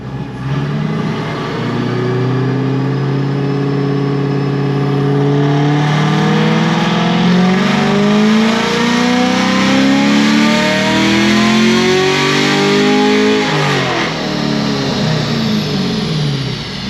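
A modified 2021 Camaro with upgraded heads, cam and intake roars loudly through a dyno pull, revs climbing steadily with a rising engine whine before dropping off near the end.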